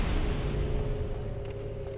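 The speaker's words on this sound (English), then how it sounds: "that orange whoosh and an ominous sound you just heard was someone using the rite of kindling on a" In Dark Souls, the rite of kindling at a bonfire gives a short, steady, low rushing whoosh with a dull ominous rumble. It is moderately loud and heard alone.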